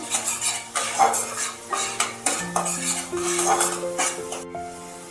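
Turmeric being stirred into a pan for pabda fish curry: a utensil scrapes and knocks against the metal in a steady run of close strokes over a faint sizzle, with background music running under it.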